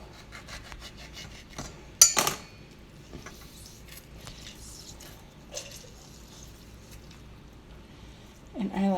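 Citrus being juiced by hand produces intermittent rubbing and squishing scrapes, close and fairly quiet, with a sharper burst early on and a person briefly speaking near the end.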